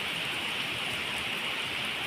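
Steady rain pours down in Hyderabad during an unseasonal summer shower around Ugadi, a continuous dense hiss with no breaks and no voices.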